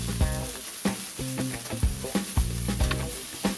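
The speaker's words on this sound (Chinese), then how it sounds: "接下来开始快速的翻炒" Cabbage and garlic stir-fried at high heat in a deep wok, a loud hiss of sizzling with repeated rhythmic scrapes and clanks of the spatula tossing the vegetables, close up and without talk.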